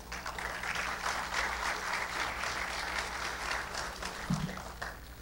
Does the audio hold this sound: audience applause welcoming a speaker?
yes